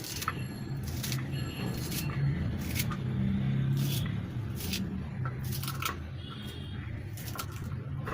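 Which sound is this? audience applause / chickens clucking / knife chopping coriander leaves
knife chopping coriander leaves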